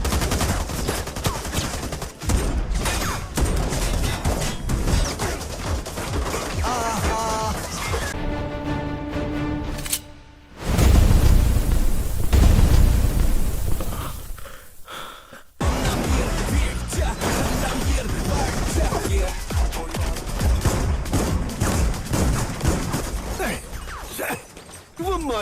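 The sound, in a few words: gunfire in a film fight scene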